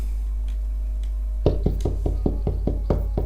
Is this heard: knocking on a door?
yes